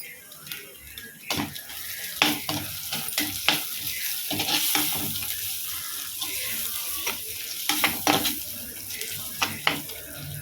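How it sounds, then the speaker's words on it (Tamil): Chopped ginger fries in oil in a pan, a close crackling sizzle broken by irregular bursts of stirring and scraping. "இந்த ஸ்டேஜில் குட்டி குட்டியாக கட் பண்ண இஞ்சி பூண்டு சேர்த்து இஞ்சி சேர்த்துக்கலாம்"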